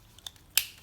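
A plastic buckle on the seat belt of a new Baobaohao V5 rider stroller clicks shut, a faint tap followed by one sharper, brighter snap up close, with no talking.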